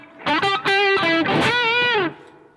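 A human voice hums and scats a guitar solo riff, imitating the instrument with sung phrases whose pitch bends and slides. The phrases come as a few short notes and then one longer sustained run, close and fairly loud.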